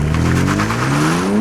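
A petrol BMW M3 and a diesel Alpina D3 launch hard from a standstill with traction control off, the engine a loud, close, steadily rising drone climbing in pitch.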